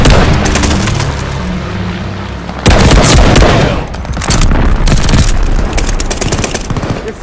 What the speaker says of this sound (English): Allies called a bombing run.